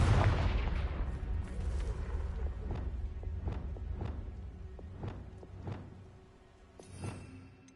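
Confringo blasting spell in Hogwarts Legacy: a loud booming blast at the start that fades into a rumbling decay, followed by a series of fainter, evenly spaced thuds and impacts.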